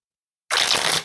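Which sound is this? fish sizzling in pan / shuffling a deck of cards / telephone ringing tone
shuffling a deck of cards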